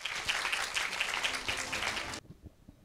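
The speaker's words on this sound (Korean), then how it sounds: "박수 부탁드릴게요." Audience applause in a hall at a science lecture event, as a school principal is welcomed to the podium: a brisk burst of clapping for about two seconds that cuts off abruptly into quiet.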